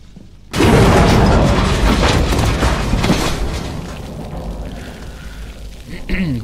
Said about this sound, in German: Da knallen wir von draußen gerade die Wasserbomben gegen das Schiff hier